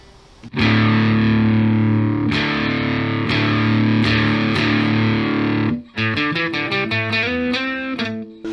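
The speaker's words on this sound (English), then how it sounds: "So we're getting a little bit more distorted, plucked notes, single notes" Loud, fuzzy electric guitar through a Boss DS-1 distortion pedal rings out in long sustained chords, then shifts to a run of quick single plucked notes.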